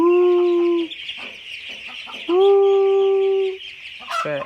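Ducklings call loudly and close by with two long, strained, tonal cries separated by shorter broken calls, followed by a quick burst of sharper cries at the end.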